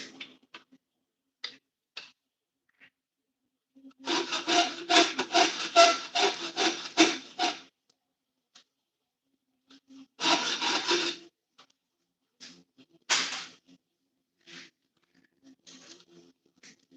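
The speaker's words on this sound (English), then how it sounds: "filing those chisel marks out" A rasp filing chisel marks out of a wooden carving, heard as close, rhythmic bursts of scraping strokes with quiet pauses and a few isolated scrapes between them.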